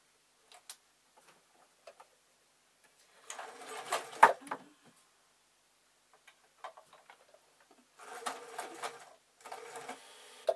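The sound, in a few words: sewing machine sewing tacking stitches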